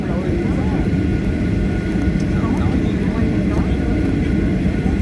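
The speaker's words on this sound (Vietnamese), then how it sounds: "đây đây là máy bay chuẩn bị cất cánh nè." An airplane sits on the runway preparing to take off, its engines giving a loud, continuous close roar, with people talking under the noise.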